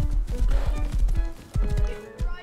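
Horse hooves clip-clopping in a video game, a quick run of loud, close, evenly spaced hoofbeats that pauses briefly and then resumes with a few heavier strikes.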